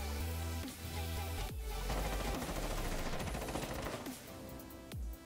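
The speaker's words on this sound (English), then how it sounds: "Fucking firefight going on." A firefight in Rainbow Six Siege: rapid bursts of gunfire crackle close and loud, with sharp single shots punctuating dense overlapping automatic fire.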